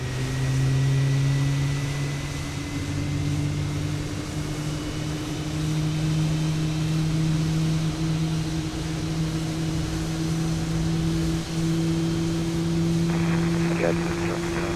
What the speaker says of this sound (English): let's start engine number 1